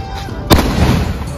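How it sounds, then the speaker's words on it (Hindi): A single sharp bang of a defective Diwali firecracker cuts through steady outdoor rumble and hiss, loud and close, followed by continuing background noise. "ये पटाखा थोड़ा डिफेक्टिव लगा था"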